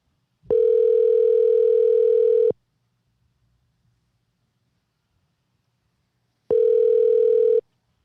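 Telephone ringback on a live call-in radio show: two long steady tones about two seconds each, separated by roughly four seconds of near silence, clear and fairly loud with no talking.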